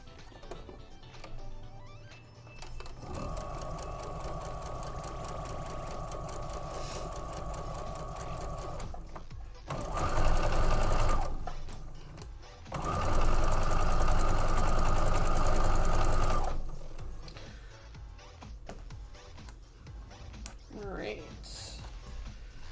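A sewing machine stitches quilt pieces for the Firelight quilt in long steady runs, close and fairly loud, with pauses between bursts and a voice talking in the quieter stretches.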